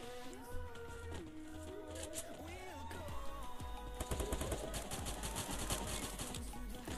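AUG rifle fire in the video game Garena Free Fire: bursts of rapid, rattling shots in the latter half, mixed with game music and effects at a modest level.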